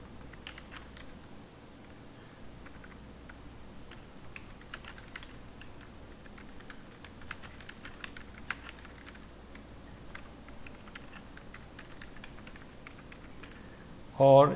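Computer keyboard typed on while writing PHP and HTML code, a faint, steady patter of soft key clicks with occasional sharper taps, running quietly throughout, followed by a brief louder sound at the very end.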